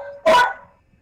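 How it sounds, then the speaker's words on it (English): A dog gives a single loud, close bark that rings briefly and fades out, with no one talking over it. "That's a loud bark."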